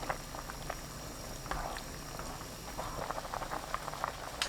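A pot of seaweed soup with potato and salt boils steadily on high heat, a dense bubbling patter with small pops throughout; close and fairly quiet, with no voices.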